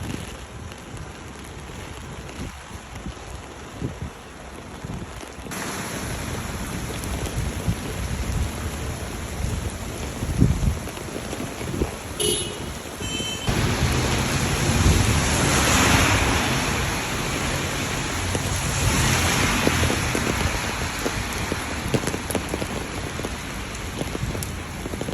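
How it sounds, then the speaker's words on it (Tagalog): Heavy winter rain and gusting wind on a Jerusalem day, a dense, loud, continuous wash of drops and rushing air that thickens in the second half. "A rainy, windy Jerusalem today."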